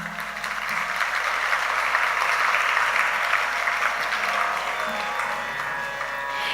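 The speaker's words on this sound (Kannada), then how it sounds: "ನಿಮಿಷಕ್ಕೆ ಜೋರಾದ ಚಪ್ಪಾಳೆ" Sustained, dense applause from an audience at a Bharatanatyam rangapravesha debut performance, steady and fairly loud throughout with no break, easing slightly near the end.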